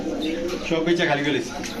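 Low pigeon coos murmur beneath a man's speech at a pigeon seller's cages, soft and continuous over a short stretch.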